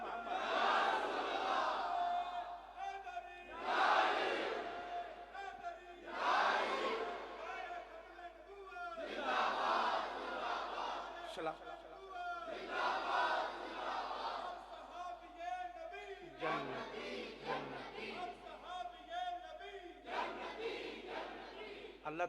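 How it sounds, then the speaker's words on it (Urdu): A crowd at a religious sermon shouts slogans in repeated loud bursts, each roar rising and fading with short pauses between, several rounds in a row, led by a voice. "انج نعرہ مارو جی حضور دے غلام مار دے."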